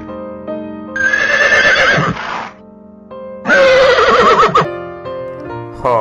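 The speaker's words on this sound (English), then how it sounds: "Horse." A cartoon horse neighs twice, each whinny loud and close, with a short gap between the two calls and a soft musical backing underneath.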